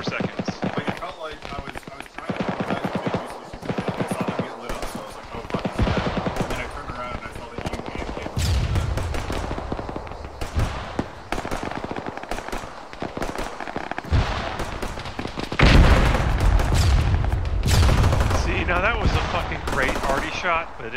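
Gunshots in the military shooter Arma 3, dense bursts of loud rifle fire and distant cracks running almost continuously, with talk mixed in over the shooting.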